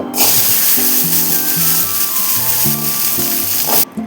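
Onions and oil sizzling loudly in a hot pan for a fish curry, a steady broadband hiss with soft scraping and stirring knocks running throughout, briefly dropping away near the end.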